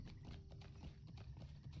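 Horse hooves clip-clop steadily in Lord of the Rings Online near an Elven settlement's stable, a close, even rhythmic clatter heard alone, quietly in the game's ambience.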